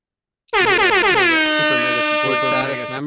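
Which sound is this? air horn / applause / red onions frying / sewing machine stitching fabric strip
air horn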